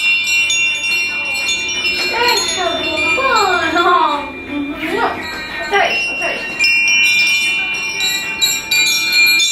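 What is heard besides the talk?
small chimes being touched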